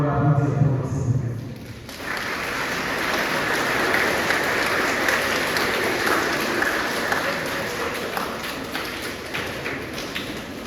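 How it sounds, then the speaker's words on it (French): Audience applause at a school centenary ceremony, a dense steady clapping that swells after a short spoken introduction and holds for several seconds, fairly loud and close. "Je vous demande de bien vouloir l'applaudir pour cette occasion."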